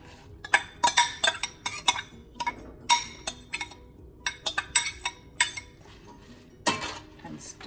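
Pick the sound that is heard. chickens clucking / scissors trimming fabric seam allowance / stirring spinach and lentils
stirring spinach and lentils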